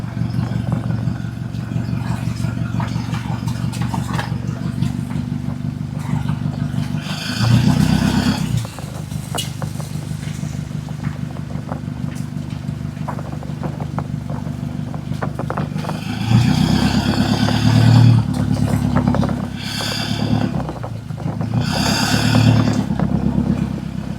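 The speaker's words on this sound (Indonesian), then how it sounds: "Suara mesin dan guncangan di jalan membuat perjalanan terasa semakin seru dan menegangkan untuk ditonton" A pick-up truck drives along a rough forest road, its engine droning steadily with louder revving surges and rattling clatter from jolts over the uneven track, no talking.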